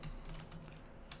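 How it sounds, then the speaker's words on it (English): Computer keyboard keys tapped in quick irregular bursts at close range while a coordinator layout is set up in code, faint and alone with no voices. "So if you start typing"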